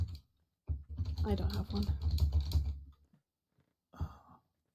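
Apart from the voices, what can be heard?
typing on a computer keyboard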